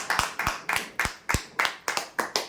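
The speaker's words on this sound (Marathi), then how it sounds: "जोरदार टाळ्या द्या" A single pair of hands clapping at a prize draw, about ten sharp, evenly spaced claps in a steady rhythm, close and distinct with no talk.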